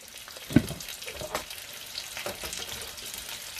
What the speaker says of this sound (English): So we've got matchstick potatoes. I'm going to throw them in.